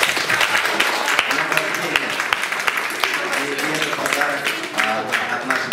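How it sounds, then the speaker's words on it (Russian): Audience applause at a library celebration for a Slavic cultures forum anniversary, honoring a diplomat's birthday; steady dense clapping fills the room throughout with voices mixed in. "Прошу вас поддержать аплодисменты."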